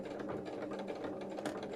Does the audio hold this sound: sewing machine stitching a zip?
yes